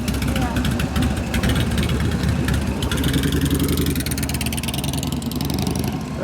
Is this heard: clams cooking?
no